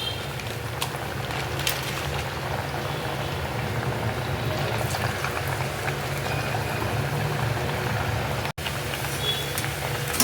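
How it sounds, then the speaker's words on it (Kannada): Nippattu, flat rice crackers, frying in hot oil, a steady dense sizzle and bubbling hiss that holds evenly throughout, close and fairly loud with no talking. "ಎಣ್ಣೆ ಕಾಯ್ದಿದೆ. ಇವಾಗ ಒಂದೊಂದೇ ನಿಪ್ಪಟ್ಟನ್ನ ನಾನು ಅದ್ರಲ್ಲಿ ಹಾಕ್ತಾ ಇದ್ದೀನಿ."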